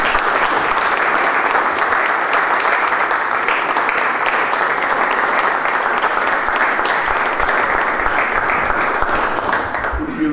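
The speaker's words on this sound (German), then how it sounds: "das bringen jetzt die Hallenstadträte und alle Zuschauer mit einem riesen Applaus für dich" A packed hall crowd gives a German champion a loud, sustained ovation, dense clapping rolling on without a break for about ten seconds and easing slightly at the very end.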